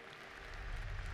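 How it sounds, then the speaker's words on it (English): Arena crowd at The International Dota 2 tournament applauding and cheering, a broad wash of clapping that swells slightly toward the end, heard at a distance and without talk. "This crowd has been amazing. A lot of them sticking around, cheering."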